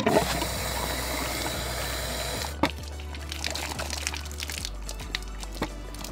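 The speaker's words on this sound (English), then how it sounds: "I'm gonna go ahead and fill that up until it starts to bubble out of this vent hole here." Water running as a camper's fresh water system is filled until it bubbles out of the vent hole, a steady pouring and trickling wash with a sharp knock partway through.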